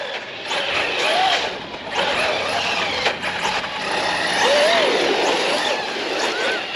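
A Redcat Machete 6S radio-controlled truck on a high-speed run gives off a steady, fairly loud electric motor whine with rising and falling pitch sweeps as it speeds up through a corner, heard from a moderate distance.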